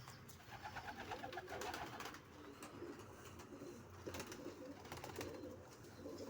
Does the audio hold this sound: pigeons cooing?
yes